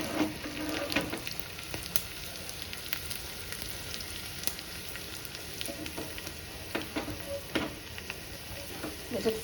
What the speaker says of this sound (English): Let it fry well for a minute.